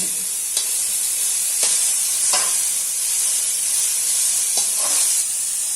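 Cabbage with ginger-garlic paste sizzles steadily in a hot pan, a constant bright hiss broken by a few soft scrapes as it is stirred.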